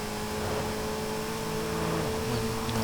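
A car's inline-four engine in the Forza Horizon 5 racing game revs hard past 7,000 RPM, a loud, steady high-pitched whine that holds throughout without pause.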